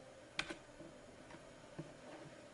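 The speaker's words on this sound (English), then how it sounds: "hold down the control key on your keyboard, which is the bottom left on your key, CTRL, hold it down and hit" A computer keyboard shortcut, Ctrl+2, is pressed, producing a couple of quiet, close key clicks followed by a fainter tap in a quiet room.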